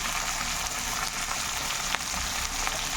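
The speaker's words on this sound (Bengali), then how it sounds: "শুধু সবজিগুলোই ভাজাভাজি করছি।" Potato, cauliflower and eggplant fry in a pan with no salt or turmeric yet, giving a steady close sizzle and crackle throughout with no voices.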